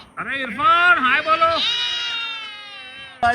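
A goat bleats loudly and close up in a long wavering cry, with a second shorter bleat at the very end; no talk is heard.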